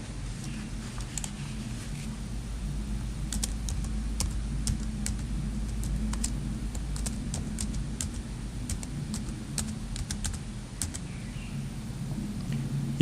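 Steady typing on a computer keyboard, a close run of light, irregular clicks and taps that carry on alone for several seconds without talk.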